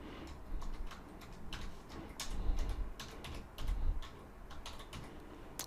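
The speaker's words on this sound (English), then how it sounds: "So let's type in the first phrase first," Computer keyboard typing a search phrase, a quick irregular run of close key clicks with brief pauses, fairly quiet and with no voices.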